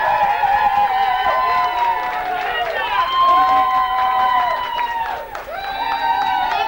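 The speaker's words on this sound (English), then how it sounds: "A big enormous round of applause for the Errigal Ramblers from True Gael" An audience at the Harp Talent Show in Derragarra applauds and cheers the Errigal Ramblers, loud sustained clapping and shouts mixed with a ringing, reverberant announcer's voice over the top.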